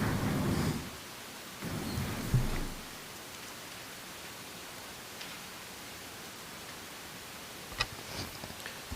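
Rain and thunder outside a meeting room, a low rumbling thunder roll at the start and another burst soon after, then a steady faint rain hiss with no talk.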